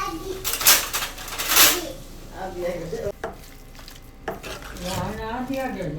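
Boiling hot oil hits masala in a pot for a Morbi-style curry, with two loud sizzling bursts followed by clinks of a spoon while a voice talks over the cooking.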